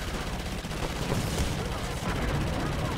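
Turret gunfire in Halo 5: Guardians, a constant loud, dense hammering roar of rapid shots with no break from start to finish.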